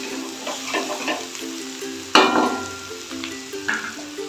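Winter vegetables fry in a pan, sizzling close by with several stirring scrapes and one sharp louder clatter partway through, no voices.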